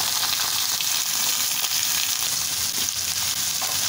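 Browned onions in a pan hiss loudly as mixed vegetables are added for a home vegetable fry, a dense continuous sizzle close up with faint stirring scrapes and no talking.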